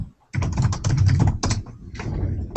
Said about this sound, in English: I can hear her typing vigorously.